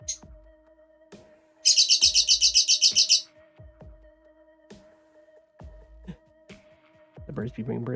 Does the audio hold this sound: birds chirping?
yes